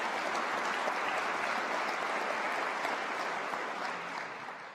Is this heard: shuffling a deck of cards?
no